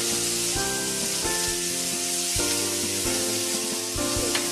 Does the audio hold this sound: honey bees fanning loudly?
no